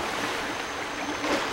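Wolf Link paddles through water in Zelda: Twilight Princess, a soft continuous splashing and washing sound, fairly steady and moderately quiet, with no voices.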